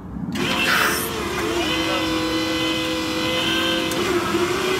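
A car engine, apparently front-wheel drive, held at full throttle, giving a loud sustained rising drone with a steady tone, close by, heard alone without talk.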